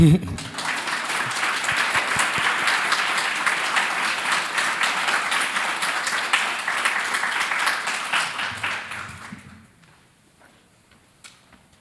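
An audience applauds steadily and densely in a lecture hall to welcome a speaker. The applause lasts about nine seconds and then fades into near quiet.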